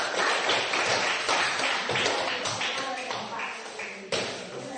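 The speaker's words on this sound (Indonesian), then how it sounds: "berikan dulu aplaus bagi" A classroom of students applauds after a group presentation. The dense, sustained clapping is fairly loud and fills the room, fading slightly before a sharp final burst near the end.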